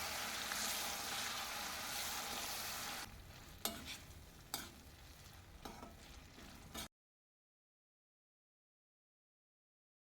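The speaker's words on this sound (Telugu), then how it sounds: "ఇప్పుడు పచ్చడి ఇందులో వేసేసుకుని ఒకే 1 నిమిషం ఫ్రై చేసుకుంటే" Tomato chutney frying in a pan, a steady dense sizzle for several seconds followed by a few sharp stirring knocks against the pan before the sound cuts to silence.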